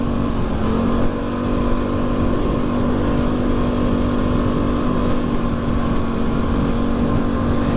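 A quad bike engine drones loudly and steadily while riding to work, a continuous close motor hum with a slight pitch change early on and no talking.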